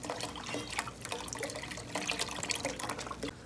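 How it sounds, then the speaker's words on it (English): Beef stock is poured into a cooking pot as part of French onion soup prep. The liquid splashes and gurgles steadily without a break, fairly close and moderately loud, with no talking. "you're going to take your beef stock and go ahead and just pour it in there."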